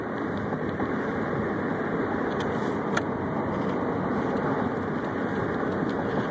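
A car's engine intake sounds steadily from nearby, giving a loud, constant rushing drone with a few faint clicks, and nobody speaks over it.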